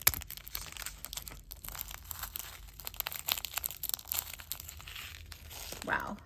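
Plastic bead packaging is cut open and handled, producing close, faint crinkling, tearing and snipping sounds in an irregular run, with soft rustles throughout.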